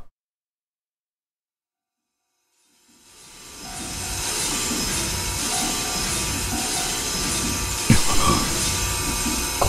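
Electric train running on the Tobu Tojo Line in the Densha de D racing game, rising in from silence after about three seconds to a steady loud rumble and rail roar with a brief sharp clank near the end.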